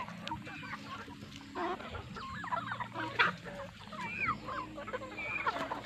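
Chickens cluck and chatter continuously nearby on a farm, several birds overlapping at moderate loudness over a low background hum.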